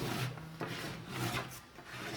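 Body filler on a motorcycle fuel tank is rubbed down by hand with a few quick back-and-forth sanding strokes, close but quiet, with no talking.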